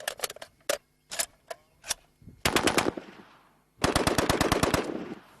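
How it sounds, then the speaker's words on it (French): An M1918A2 light machine gun with a 20-round magazine firing, first as scattered single shots, then two sharp rapid bursts, loud and close. "M19-18A2, est une mitrailleuse légère qui permet au peloton de bénéficier d'un feu de soutien."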